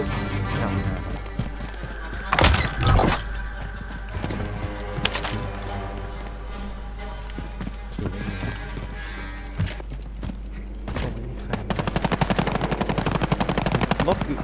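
Gunfire rattles through a Call of Duty Warzone match: sharp bursts of automatic fire, several loud close shots early on and a rapid volley near the end over a constant low game rumble.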